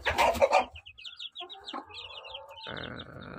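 Newly hatched incubator chicks cheep in rapid high peeping runs nearby, after an opening burst of louder clucking, with a rough rustling noise near the end.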